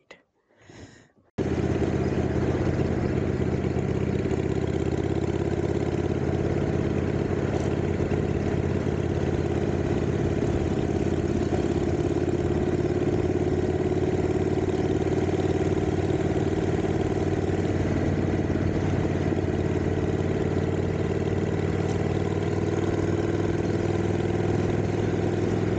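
A motorcycle engine drones steadily through a ride out to the Malvern Hills. It starts abruptly after a brief quiet moment, then holds a loud, continuous close roar with gradual pitch shifts as the bike changes speed.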